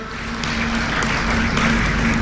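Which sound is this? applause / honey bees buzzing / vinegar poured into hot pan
applause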